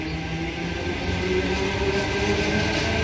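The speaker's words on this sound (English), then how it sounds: "T121 and its friend departing platform number 2 for a Helensburgh service." Sydney Trains set T121, coupled with T13 as an eight-car train, departs platform 2 at Heathcote on a Helensburgh service: a steady, close rumble of moving carriages with faint wheel and rail noise throughout.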